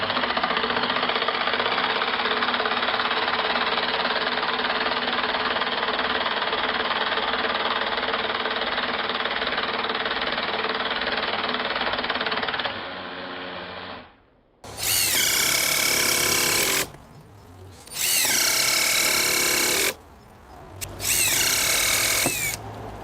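A Hikoki hydraulic impact driver drives stainless screws, first a long steady whirring run, then after a short pause three loud, bright, hammering bursts of a few seconds each with brief gaps between them.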